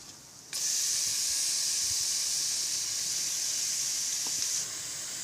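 Raw chicken dropped into hot, well-fried masala for a chicken gravy bursts into a loud, steady sizzle that holds evenly for several seconds before easing slightly.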